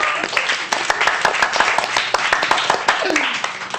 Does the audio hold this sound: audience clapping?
yes